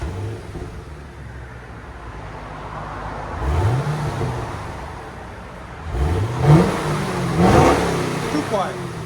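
A stock-exhaust 2010 Chevy Camaro SS with its 6.2-liter V8 revs in short bursts, a couple of rising engine swells over a steady idle rumble, close by.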